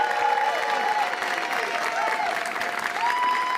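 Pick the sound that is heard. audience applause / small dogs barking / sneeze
audience applause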